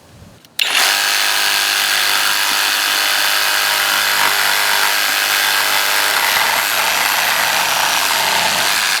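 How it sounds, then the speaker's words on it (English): A jigsaw cuts a curved top cap for a wooden deck guardrail, starting abruptly and then buzzing loud and steady at close range, with no voices over it. "when I start to make the cut with my jigsaw"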